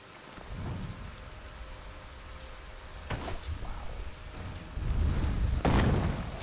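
Rain falls in the fantasy role-playing game Arcania: Gothic 4, a constant hiss of a steady downpour with deep thunder rumbles and sharper cracks rising and fading over several seconds, no voices.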